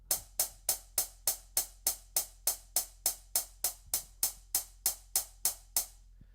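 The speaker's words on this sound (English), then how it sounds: "typically a new drummer or an inexperienced sequencer will have the hi-hat doing this." A hi-hat ticks in a fast, even pattern, about three hits per second, every stroke at the same loudness, playing alone over a faint low hum.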